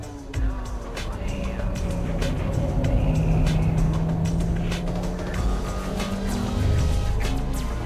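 A Honda Civic Type R EK9 engine pulls at full throttle toward a hairpin, a steady loud engine drone with rising harmonic tones throughout, no talk.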